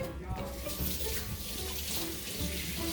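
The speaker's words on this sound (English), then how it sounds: "Let me actually wash my hands now before we start mixing everything all together, before I touch everything." Steady running tap water splashing into a kitchen sink as hands are washed during cooking, a continuous close hiss and gush with no talking.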